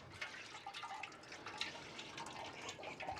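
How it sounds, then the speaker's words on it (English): Water splashes and trickles from a manual Baby Whale pump tap at a small sink in a camper van, a soft uneven pouring with faint drips, close by and fairly quiet. "So it's just a manual pump. It's a manual pump, and it's called Baby Whale pump"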